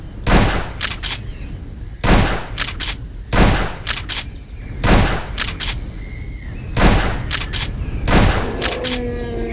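Loud, close shotgun blasts hit a female Tyrannosaurus in the Jurassic Park Hunter video game, firing in a steady rhythm about every one and a half seconds, each boom followed by a quick pump-action clatter.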